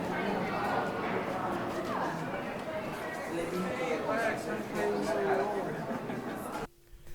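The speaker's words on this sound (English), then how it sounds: "the name of this ambience is Off a Marketplace" A marketplace ambience sample from Cymatics: a busy blend of murmuring crowd voices, shuffling footsteps and clopping hooves at steady moderate level, cutting out abruptly near the end.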